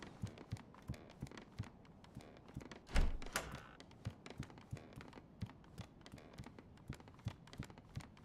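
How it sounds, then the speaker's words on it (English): A computer mouse smacked hard against a desk during DayZ play gives one sharp, loud thump partway through, set against a steady pattern of soft, regular low thuds, with no talking. "I smacked my mouse then."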